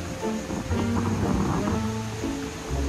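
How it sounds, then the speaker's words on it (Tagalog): Sea waves washing onto a shore near a river mouth, a loud continuous wash and rumble mixed with wind noise on the microphone. "Walang alon, may alon pala."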